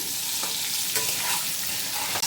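Boiled eggs frying in hot oil in a pan for a potato egg curry, a steady close sizzle throughout with a few faint stirring touches.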